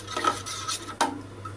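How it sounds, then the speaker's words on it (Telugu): A ladle stirs rava dosa batter mixed with a spoonful of cumin, making a few soft scraping and clinking strokes against the bowl, close and fairly quiet, with no talking. "ఇప్పుడు నేను గరిటతో కలుపుతున్నాను"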